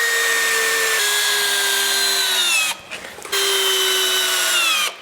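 A power drill drives screws while a pocket door frame is shimmed and set, two long steady whining runs with a short pause between them, close and loud with no talk.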